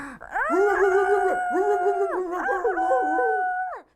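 A voice imitates a dog, letting out drawn-out howling, wailing tones in a few long, close, loud bursts rather than short barks.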